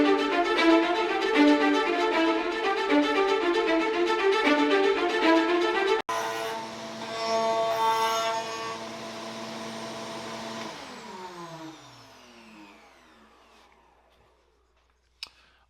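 Router in a JessEm Mast-R-Lift II router table cutting the edge of a walnut board: a loud, steady high-pitched motor whine with cutting noise, then a lower spin-down that fades to near silence, ending in a single click.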